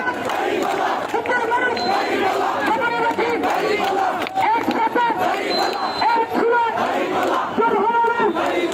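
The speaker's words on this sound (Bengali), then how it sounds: "আমরা দেখতে পাচ্ছি দাঁড়িপাল্লার মিছিল এই মুহূর্তে যাচ্ছে।" A Bangladeshi political procession passes at an election rally, a large crowd chanting loudly in rhythmic slogans with waving voices overlapping, continuous and close.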